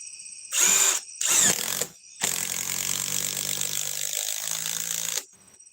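A drill runs in several bursts: two short high-pitched whirs, a pause, then a longer steady grinding run of about three seconds that cuts off abruptly.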